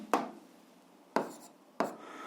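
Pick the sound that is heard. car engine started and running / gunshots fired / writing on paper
writing on paper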